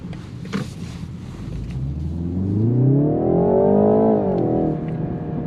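A 2019 BMW 330i accelerates from low speed, its engine note rising smoothly in pitch and loudness, then easing off slightly, heard from inside the car with no talking.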